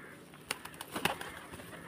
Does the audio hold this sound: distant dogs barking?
no